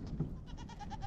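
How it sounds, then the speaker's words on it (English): Goats bleating on a farm, a short wavering quavering cry close by over a low background murmur. "you girls are acting like real goats"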